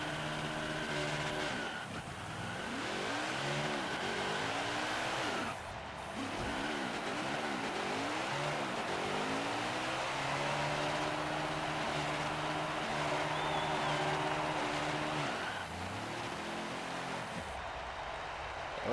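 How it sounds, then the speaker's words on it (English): A NASCAR Heat 5 race car does a burnout at Bristol in the video game: a sustained engine roar that rises and dips in repeated revving sweeps, loud and close, with no talking. "we got to burn it down for the Bristol fans here in the Hunt Brothers Pizza Florida Racing Mobile"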